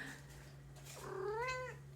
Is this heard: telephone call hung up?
no